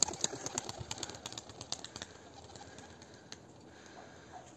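A white young pigeon flaps its wings in flight, a quick run of soft wingbeats at moderate distance that fades after the first two seconds into faint outdoor background.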